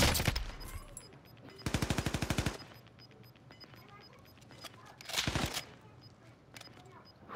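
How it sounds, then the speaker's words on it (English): Bursts of rapid automatic gunfire in a Call of Duty Warzone quads match, two loud sustained volleys between a short opening burst, with a few isolated shots and speech between. "Whew, two shots."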